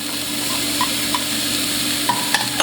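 Onions, carrots and celery fry in a soup pot with a steady close hiss while a spoon scrapes and stirs, small clicks of the utensil breaking through the constant sizzle.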